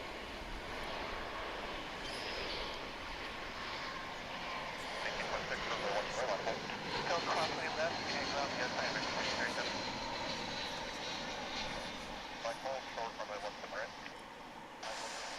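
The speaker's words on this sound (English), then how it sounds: "another A321 on Runway DFW" An American Airlines A321 airliner lands at DFW, its engine roar a steady broadband rumble that swells slightly mid-approach, heard from a distance with airport ambience.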